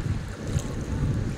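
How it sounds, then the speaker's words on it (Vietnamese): A boat on a river, a low steady engine rumble a short way off, mixed with wind noise on the microphone and faint water sounds. "Xa xa đó là một cái ghe đi bể dừa."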